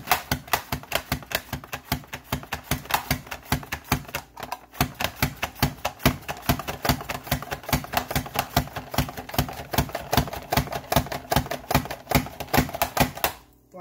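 A Rapid Prep mandoline slices a cucumber with rapid, regular clacking strokes, a dense rhythmic chopping that continues close and steady throughout with a brief pause midway.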